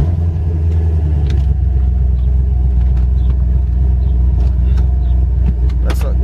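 Several cars, among them a Corvette Grand Sport, pull away on a cruise, a steady low engine rumble and road noise holding close and loud throughout, with a brief rise near the end.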